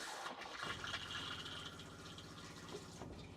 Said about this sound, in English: flush to rinse the bowl